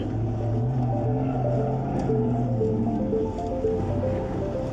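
A vehicle towing a large tandem-axle caravan drives through a water crossing, a steady engine drone with a rushing wash of water, close and continuous, with no talking.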